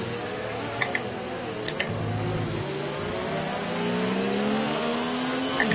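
An F1 race car in the F1 2019 game at the China circuit loses its rear end and spins, its engine whining and revving in sliding pitch sweeps, with a few light ticks over the steady drone.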